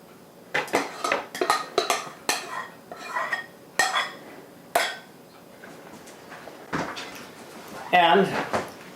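Cooked spareribs stirred in a metal pan, with a run of sharp clanks and scrapes of a utensil against the pan that come in bursts and then thin out toward the end, while a voice speaks.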